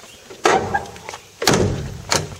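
Doors of a 1960 Cadillac Coupe DeVille pushed shut, two solid thunks about a second apart with a lighter knock after each, close by and with no talk.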